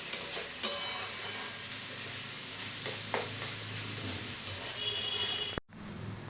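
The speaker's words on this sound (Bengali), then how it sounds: "এবার এটাকে একটু হালকা করে ভেজে নেব।" Chopped onion with grated ginger, garlic and green chili fries in a pan with a steady, moderate sizzle and some stirring. A short clatter comes near the end, then a quieter sizzle.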